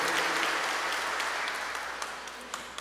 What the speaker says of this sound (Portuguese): Podemos bater palmas para ele também, ainda que ele não esteja aqui conosco.